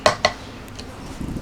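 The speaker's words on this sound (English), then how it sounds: "Just serve some into the bowls and let it start to cool off" A pot of homemade SpaghettiOs is served into bowls: two sharp metallic clinks of a utensil against the pot, then a soft scraping and clattering, close and fairly quiet, with no talking.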